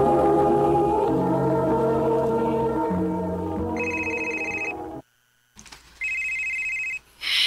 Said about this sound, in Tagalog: Ganina raman ang nagsigigring imong cellphone, nak.